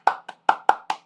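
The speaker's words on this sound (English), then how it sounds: "Give him a round of applause." A few people clapping in a classroom accounting tutorial, six sharp claps spaced a short way apart, close and fairly loud, with no talk over them.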